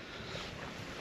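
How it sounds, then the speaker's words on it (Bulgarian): Strong wind roars across a reservoir, buffeting the microphone in a dense, continuous rush for the full second. "Но духа ужасно много вятър."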